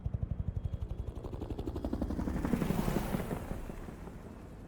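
A helicopter departs in the Hitman World of Assassination video game, its rotor thumping in a steady rhythmic pulse that swells into a broad whooshing roar and then fades away as it leaves.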